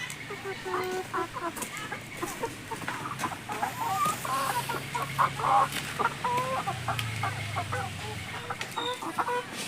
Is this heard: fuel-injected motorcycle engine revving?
no